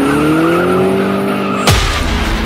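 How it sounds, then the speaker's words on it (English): Car tires squeal loudly in a high, rising screech. Partway through, a sudden harsh burst of skidding noise and roar cuts in, close and intense, with no voices. "if the hair on the back of your neck stands up when you hear tires squeal"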